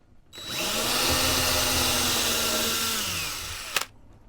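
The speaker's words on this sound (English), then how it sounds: "I'm going to very carefully drill a nice straight hole" A power drill whirs steadily for about three seconds while drilling a hole during an Airstream thermostat install, spinning up, holding a constant pitch, then winding down and stopping with a small clunk.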